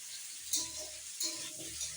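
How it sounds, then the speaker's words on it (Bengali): Cauliflower and potato frying with onion in a pan, a steady close sizzle with two louder bursts of hissing as the pieces are stirred, no voices. "পেঁয়াজের সঙ্গে ফুলকপি আর আলুটা ভালো করে ভেজে নিচ্ছি"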